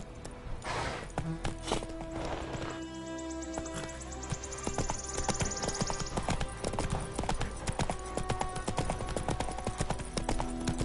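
Hoofbeats of the horse Roach trotting in a video game, a steady rhythmic clip-clop close by, running throughout over a music and ambient bed.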